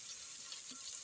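Sliced large onions fry in a pan for biryani, a close, steady hiss of sizzling oil with faint crackles, soft and continuous with no voices.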